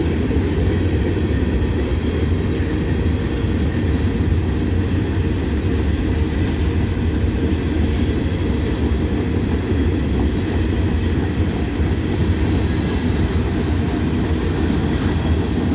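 Freight train rolling past with high-side gondolas loaded with scrap metal and empty three- and four-bay covered hoppers, a continuous loud rumble and rattle of cars going by up close for the whole stretch.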